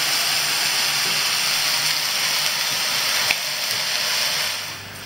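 Beef and broccoli with soy sauce, oyster sauce and sesame oil sizzle in a hot pan, a dense steady hiss close by with a faint clink of tossing, easing slightly toward the end.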